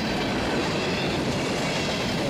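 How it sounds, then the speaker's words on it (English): A Union Pacific mixed freight train running from Fort Worth, Texas to Wichita, Kansas rolls past close by in winter, a loud, steady rumble of wagons with faint clickety-clack and some wheel squeal, with no talking. "This is Daily Train MFWWT, Fort Worth, Texas to Wichita, Kansas mixed freight."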